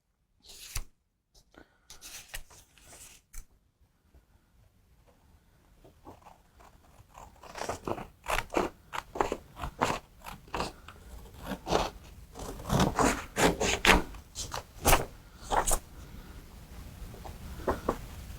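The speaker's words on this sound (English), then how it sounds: "the first thing we're going to do is cut out our items. So we're going to need our scissors" Scissors snip and crunch through coloured paper in a run of short, uneven cuts, faint at first and growing louder and busier, with rustling between cuts.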